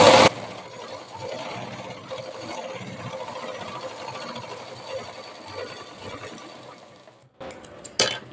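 A sewing machine stitching a seam on a princess-cut blouse runs in one steady, close mechanical whir for several seconds, then stops, followed by a brief clatter.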